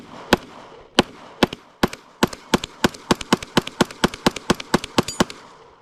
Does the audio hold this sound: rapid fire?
yes